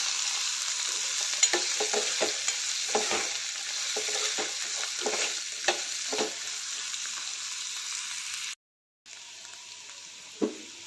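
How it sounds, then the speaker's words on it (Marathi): Onion, tomato, carrot and green chili sautéing in a pan for upma, giving a loud continuous sizzle broken by repeated scraping strokes of a spatula. The sound cuts out briefly near the end, then the sizzle resumes. "टोमॅटो, सर्व मिक्स करून चांगलं मऊ होईपर्यंत परतून घ्यायचं आहे हे सर्व"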